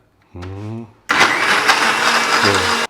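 A kitchen blender whirs loudly for about two seconds as it blends a protein smoothie. It starts abruptly after someone speaks briefly, and his voice returns over the motor's end.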